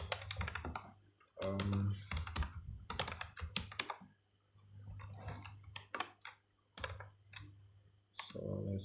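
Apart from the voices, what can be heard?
typing client-side code on a computer keyboard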